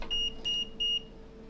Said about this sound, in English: Of course, my multimeter is beeping at me.